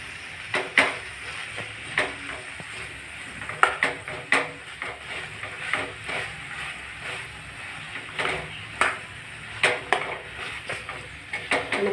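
A spoon stirring spices in a cooking pan with mixed vegetables, faint scraping and clinking in irregular strokes over a low steady sizzle.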